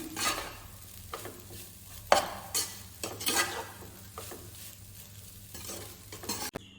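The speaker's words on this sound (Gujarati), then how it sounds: "બરાબર મિક્સ કરી દેવાનું." A spatula stirs Gujarati-style poha (flattened rice) with coriander in a pan, making intermittent scraping strokes and soft sizzling, close up with a final sharp clink.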